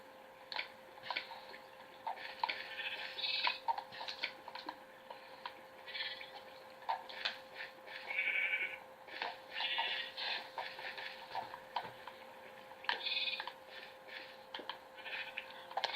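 Sheep bleat in a Minecraft-style video game, short synthetic calls repeating at irregular intervals over a faint steady tone and light ticking, fairly quiet, with no speech.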